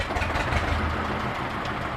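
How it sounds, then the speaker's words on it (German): An old Eicher tractor engine runs steadily with a low, thrumming diesel chug that stays loud and even throughout, close by and with no voices. "Alle Eicher starten auf Anhieb."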